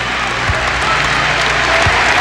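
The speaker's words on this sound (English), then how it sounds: "Getting a well-deserved standing ovation from this crowd here." A basketball crowd gives a standing ovation at a 1995 NIT second-round college game between Virginia Tech and Providence, with loud, dense, sustained applause and cheering filling the arena without a break.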